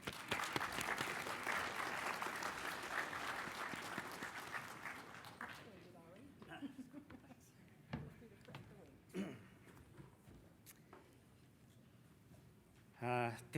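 An audience at a language revitalization conference claps to welcome a speaker to the podium, loud sustained applause that fades after about five seconds, followed by scattered thumps and shuffling.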